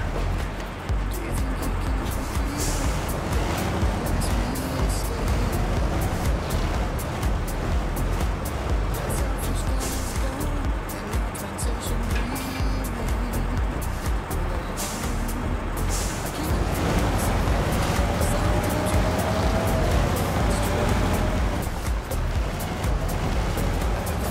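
A heavy truck engine in the MudRunner off-road game runs continuously, a loud, steady rumble with shifting grinding and rattling noises throughout, no voices over it.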